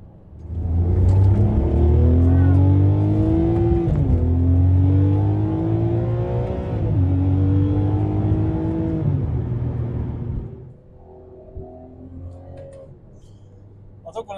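Supercar engine revs hard and pulls away through several rising gear sweeps, loud and close, then drops to a quieter idle-like hum near the end.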